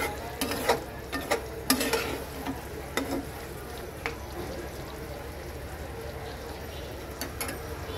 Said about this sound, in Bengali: এখন আমি এর মধ্যে দিয়ে দেব ঝোলের জন্য জল।